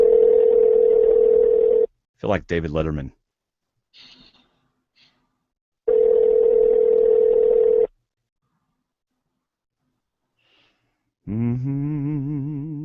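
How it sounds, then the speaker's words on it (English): Two long steady telephone ringback tones sound about four seconds apart, with brief breathy vocal noises between and a voice speaking at the end. "You can hear it ringing."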